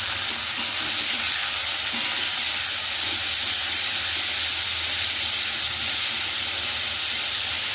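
Small potato pieces fry in a pan with asafoetida, turmeric and salt, giving a steady, loud, continuous sizzle with faint stirring scrapes throughout and no voices.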